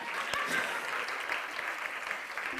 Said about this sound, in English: For this I also have to clap.